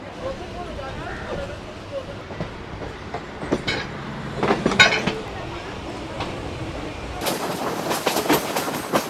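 Local commuter train bound for Canning, heard from inside a carriage: steady rolling rumble with repeated clickety-clack wheel beats that sharpen toward the end, faint voices murmuring in the background.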